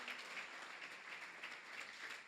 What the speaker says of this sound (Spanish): dale tu mejor aplauso al Señor